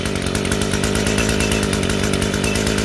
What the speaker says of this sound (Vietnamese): Rồi máy nổ rất là ok,